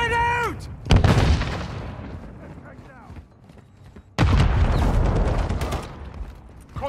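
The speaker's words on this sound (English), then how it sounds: "Stun grenade out!" A stun grenade detonates in Call of Duty: Modern Warfare 3, two heavy booming blasts each trailing into a long rumbling decay, loud and close, with a short whistle-like tone before the first.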